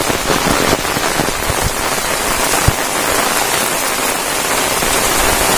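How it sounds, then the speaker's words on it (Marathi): Heavy first monsoon rain falls hard in Rajapur, Konkan, a loud, steady wash of drops hammering nearby surfaces, broken by one sharp knock midway and free of talk. "आपल्याकडे खूप पाऊस पडतोय।"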